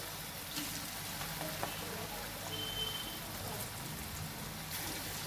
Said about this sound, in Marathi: आणि आता तेलात भजी सोडूया